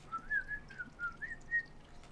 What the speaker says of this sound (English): You're like whistling while you work.